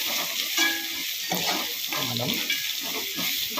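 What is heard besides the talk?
ginger garlic paste frying in oil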